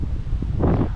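Steady wind buffeting the microphone, a low rumbling roar that swells louder toward the end, with faint rustling in the gusts.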